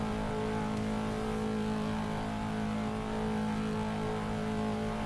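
A virtual car engine in the PC racing sim Assetto Corsa, set up for a BMW E60, drones steadily and loudly throughout, a continuous close hum with no pauses.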